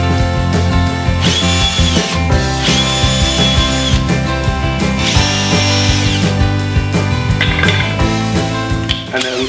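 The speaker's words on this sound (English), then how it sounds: "I'm gonna drill a second hole through, just so we don't have any splitting." A power drill bores a second hole through a wooden kitchen shelf, whining loudly in repeated bursts with high pitched spin-ups and steady motor hum throughout.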